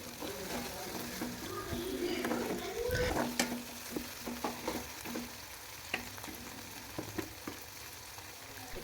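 Chopped tomato fries in oil in a pan, giving a steady close sizzle with spatula stirs and scrapes scattered through it and a brief louder burst near the start.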